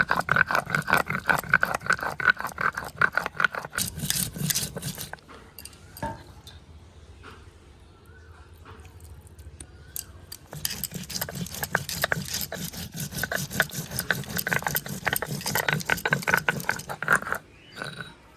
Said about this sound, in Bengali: ধনে আর জিরেটা একসঙ্গে বেশ ভালো করে মিহি করে বেটে নেব।